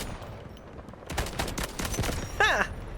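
Rapid gunfire in the shooter game Delta Force, with a German sniper rifle and SR9 in play, a dense burst of close, loud shots lasting about a second, followed by a sharp sweeping effect.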